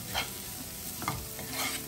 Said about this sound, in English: and roast well.